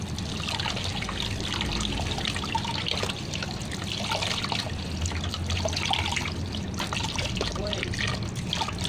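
Tap water runs continuously nearby, a steady splashing trickle as hands are rinsed under the stream.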